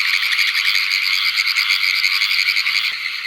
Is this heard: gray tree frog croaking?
yes